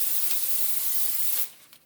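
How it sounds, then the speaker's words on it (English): Cooking oil sprayed from a spray can onto a sheet of wax paper, a steady close hiss lasting about a second and a half before cutting off, followed by faint rustling. "And it's just oil. It can be any kind, the spray kind."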